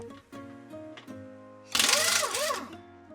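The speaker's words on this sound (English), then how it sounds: "I'm going to want this larger impact gun with the 3/4 inch socket to get those loose." A large impact gun with a 3/4 inch socket loosens bolts on a tiller gearbox in a loud rattling burst of about a second, preceded by a few lighter clicks and thumps.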